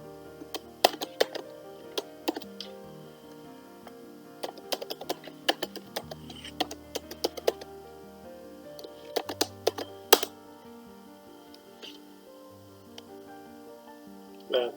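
Fingers type a password on a computer keyboard, producing a quiet, irregular patter of close key clicks spread across the stretch, with short pauses between bursts over a faint steady hum.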